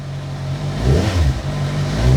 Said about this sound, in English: With the Akrapovic, it's a really nice subtle noise until it gets going.